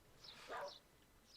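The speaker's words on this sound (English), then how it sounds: "I hear a dog." A dog in the virtual world of the game Second Life gives a single short, faint bark.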